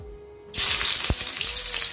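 Garlic hits hot mustard oil in a wok and bursts into a loud, close, sudden sizzle that keeps crackling steadily with a few stirring clunks.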